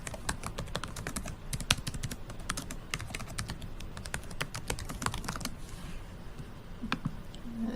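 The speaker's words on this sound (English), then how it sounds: "So I need to go back in and type in the correct title." Fingers type steadily on a computer keyboard, entering a title for a works cited page. The keys clatter in quick, close, continuous bursts with no pauses.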